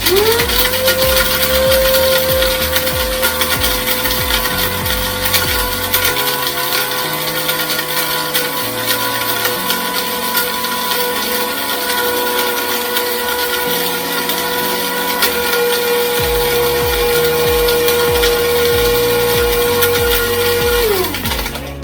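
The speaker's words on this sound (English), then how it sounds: "This is not the best coffee grinder, but until it breaks, I'm gonna use it." A small electric grinder whirs loudly and steadily for about twenty seconds, a high motor whine with a gritty rattling underneath, then spins down.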